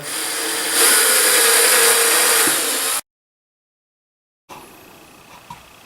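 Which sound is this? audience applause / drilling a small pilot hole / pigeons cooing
drilling a small pilot hole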